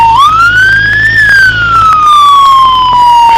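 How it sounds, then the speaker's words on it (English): A loud, close police car siren wails, rising in pitch and then slowly falling, filling the whole stretch. "turn your siren off"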